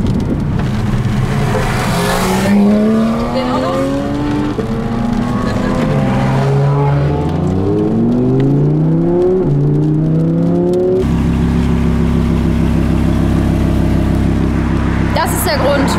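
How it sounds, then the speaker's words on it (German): A Porsche GT3 sports car passes close by, its engine note climbing and falling in pitch through several gear changes before settling into a steady loud drone. "hinter uns ist jetzt noch ein GT3. Sehr schönes Auto."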